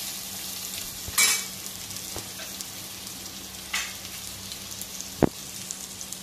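Onions and spices fry in hot oil for a Kerala onam sadya dish, a steady crackling sizzle broken by a few sharper stirring scrapes and clinks of a spoon against the pan.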